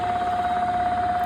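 A three-speed inverter generator runs unloaded with nothing plugged in, giving a steady, loud hum with a sustained whine of constant pitch and no change in speed.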